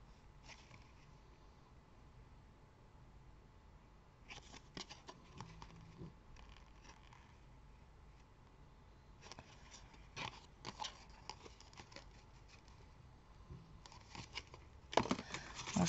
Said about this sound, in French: Alors là, on recoupe un papier